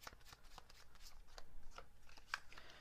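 Tarot cards shuffled and drawn by hand during a reading, a run of quick soft riffling and flicking sounds, close and fairly quiet, with no talking.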